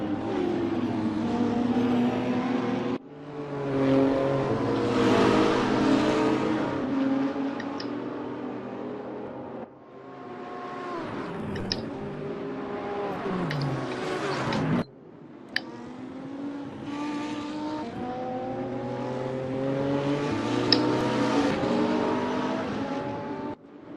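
A BMW race car engine in a racing simulator game revs hard through repeated acceleration runs. The rising, harmonic-rich tone climbs through the gears, broken by brief lifts and gear changes.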